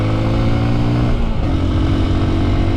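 A Honda XR150 dual sport motorcycle held at wide open throttle climbing uphill in third gear, a steady loud close engine drone with a small pitch shift midway, no talking.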